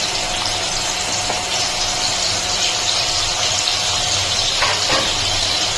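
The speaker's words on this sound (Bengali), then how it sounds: "এখন আমি মাছ ভাজার তেলে উচ্ছেগুলো ছেড়ে দিচ্ছি।" Bitter gourd pieces frying in oil left over from frying fish, a loud, close, continuous sizzling hiss with a few brief clatters near the end.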